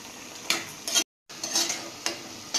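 Vegetables are stir-fried in a pan, with a steady sizzle under repeated scraping strokes of a spoon. A brief silent gap breaks the sound partway through, and the stirring then resumes close by.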